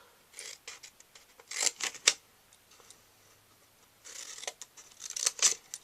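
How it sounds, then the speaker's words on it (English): Scissors cutting along score lines on a paper gift box, crisp close snips in two quick bursts separated by a quiet pause. "So I'm going to cut those score lines."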